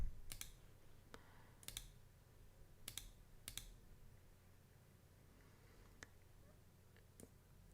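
A computer keyboard, apparently mechanical, gives a few sharp, isolated clicks spread out over a quiet room hum. The keystrokes are faint and irregular rather than steady typing.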